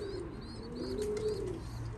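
Soft, low pigeon cooing rises and falls in a steady murmur, fairly close, with faint chirps and background noise around it.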